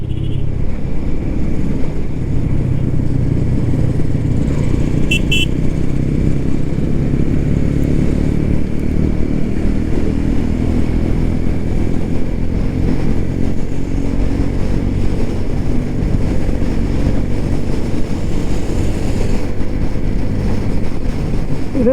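A Honda CB 125 Hornet motorcycle climbs a hill at speed. Its engine gives a constant, close, droning note with steady wind noise throughout, and no one speaks.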